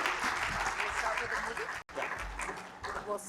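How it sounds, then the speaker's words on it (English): An audience at a talk by Israel's Consul General gives a round of applause, steady close clapping that cuts out for a split second midway, then carries on under a few voices. "So let's give a big round of applause"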